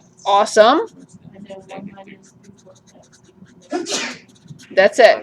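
During a college math lecture, a single sharp sneeze cuts in between stretches of speech, with faint scratching of writing underneath.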